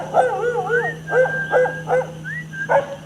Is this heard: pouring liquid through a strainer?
no